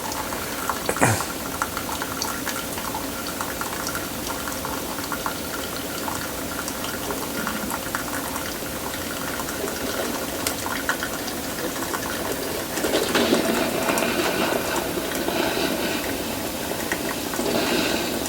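A Braun Multiserve KF9170SI coffee maker draws water and brews, a steady bubbling, gurgling hiss that swells louder near the end, heard alone without talk.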